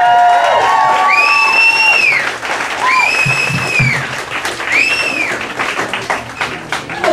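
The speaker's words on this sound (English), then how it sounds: "nice round of applause for contestant number one, Chad Atkinson." A crowd at a talent contest applauds and cheers for a contestant, loud continuous clapping with shouts, whoops and whistles rising over it, the clapping thinning toward the end.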